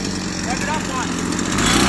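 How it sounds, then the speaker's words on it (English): A small go-kart engine buzzes steadily nearby, revving with a slight rise in pitch toward the end, while people talk over it. "Rev it up one."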